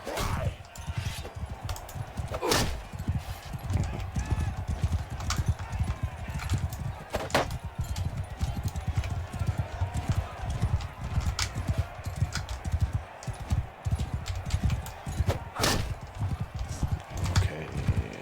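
Horses gallop in a 2-against-2 mounted fight in the game Mount & Blade II: Bannerlord, with steady clip-clop hoofbeats and low rumble running throughout, sharp impact hits cutting in now and then.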